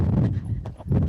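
Hooves of a horse worked on long reins clop on the ground nearby in an uneven, close series of dull thuds, with no talking.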